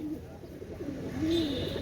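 Teddy pigeons coo softly and close by, a couple of low rounded coos over a quiet background, with a faint higher chirp late in the clip.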